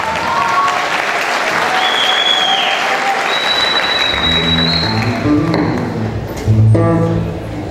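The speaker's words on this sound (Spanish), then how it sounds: "Nuevamente los aplausos" An auditorium audience at a Mexico–Colombia dance festival claps steadily for several seconds, then the applause thins as a voice and some music-like tones come in near the end.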